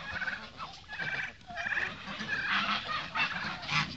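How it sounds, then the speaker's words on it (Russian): Turkeys gobbling in a farmyard among muscovy ducks and Indian runner ducks: repeated bursts of rapid, rattling gobbles from several birds, close and fairly loud, overlapping across the whole stretch. "Что индюки, птица такая привередливая."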